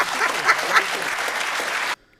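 An audience breaks into loud, dense applause at a political debate, a crackling wash of clapping with a few sharper cheers that cuts off abruptly near the end.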